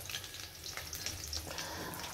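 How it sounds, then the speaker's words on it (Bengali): Fish frying in a pan gives a continuous close sizzle with light bubbling crackle, steady and fairly quiet for the whole short stretch. "মাছগুলো ভাজা হচ্ছে"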